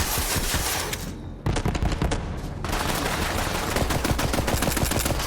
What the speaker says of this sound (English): This gun has a lot of recoil. It is a starter gun.